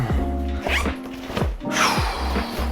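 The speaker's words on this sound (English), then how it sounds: "zip, zip, zip, zip, zip, zip, into the bag" A nylon zip bag on a small sling pack being zipped shut in several quick close pulls, sharp rasping strokes with brief pauses between them, loud and near.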